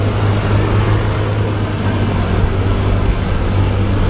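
A Honda Click V3 scooter strains uphill toward Antipolo at night, its engine a loud, steady, unbroken drone mixed with rushing wind noise, close up with no voices.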